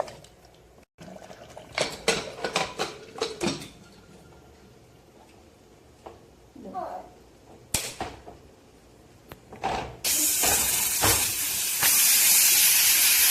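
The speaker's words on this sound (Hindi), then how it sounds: "देखिए 1 सीटी आ गई है" A pressure cooker on a gas stove, cooking keema, starts with clattering pot and lid noises and short hisses, then lets out a loud, sustained steam whistle that builds and holds to the end.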